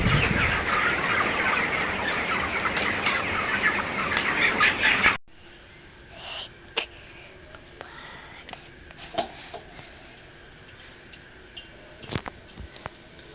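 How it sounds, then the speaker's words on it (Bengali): Farm chickens in a poultry house cluck through a dense, loud first five seconds, then the sound drops to quieter scattered clucks and chirps with crickets in the background. "মুরগিগুলোর বয়স হয়েছে মুরগিগুলো বড় হয়েছে"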